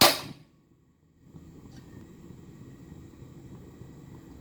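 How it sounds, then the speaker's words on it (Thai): A single metallic clang rings out sharply as a wok is set on the stove, then fades into a low, steady rumble of background noise. "ขั้นตอนแรกตั้งกระทะนะครับ"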